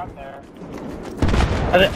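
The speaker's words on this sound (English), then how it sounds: "there's explosions going off everywhere" Heavy booms and rapid gunfire-like bursts erupt partway through a Battlefield 3 Rush-mode battle, loud and dense, with explosions stacking on top of each other.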